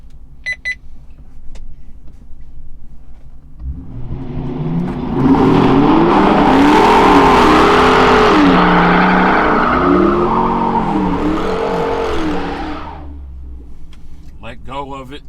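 A Chrysler 300 engine revs hard during a line lock burnout, rising from idle into a loud sustained roar with wavering pitch for several seconds before dropping back, with brief talk at the start and end.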